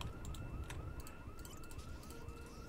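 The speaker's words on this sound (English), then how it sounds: "The house alarm might divert zombies, though." A house alarm wails inside Project Zomboid, a repeating rising siren-like tone cycling roughly every half second, steady and moderately loud over a low rumbling background.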